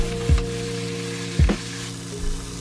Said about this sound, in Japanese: ナスとズッキーニも同じように焼いていきます。